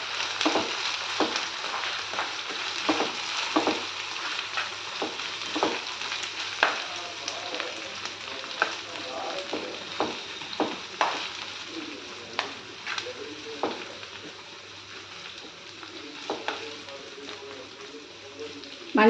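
Cauliflower fries in ginger garlic paste on a slow flame, giving a steady soft sizzle broken by repeated scraping stir strokes and spoon taps, fairly quiet and close, with occasional voice in the background.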